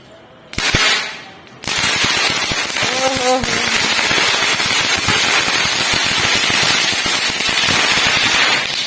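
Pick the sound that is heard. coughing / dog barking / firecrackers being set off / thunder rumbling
firecrackers being set off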